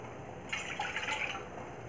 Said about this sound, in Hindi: एक बर्तन में हम 60 ml के कप से 2 कप पानी डालेंगे